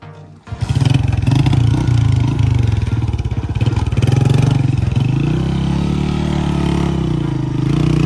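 A motorcycle descends a rough, badly broken village path, its engine loud and close with a steady, chugging drone that dips and rises as it rolls down, running continuously for about eight seconds.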